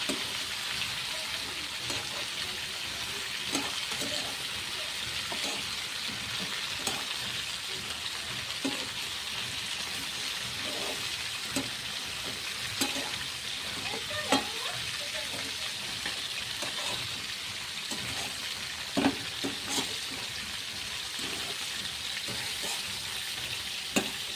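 Cauliflower and potato pieces fry with turmeric in oil in a pan, giving a steady crackling sizzle throughout with scattered sharper pops and occasional stirring clicks.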